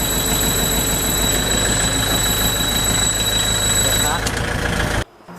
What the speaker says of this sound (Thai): เหยียบคลัตช์จะดังอีด ปล่อยคลัตช์ปุ๊บเงียบ